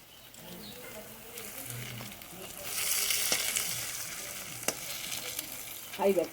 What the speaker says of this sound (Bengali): এখন মাংসটা হচ্ছে তো দেখো এটা আদা রসুন বাটাটা দিয়ে দিয়েছি এবার ভালো করে কষিয়ে নিচ্ছে